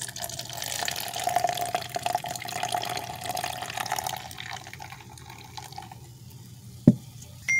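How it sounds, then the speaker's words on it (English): Mountain Dew Maui Burst soda pours into a cup, a continuous fizzy stream that gradually softens and fades, ending with a brief clink near the end; no one speaks. "So let's go ahead and pour it."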